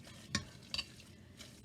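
Seasoned hamburger mixture being stirred by hand: three or four short, distinct scraping strokes with quiet gaps between them, close and fairly soft, with no talking.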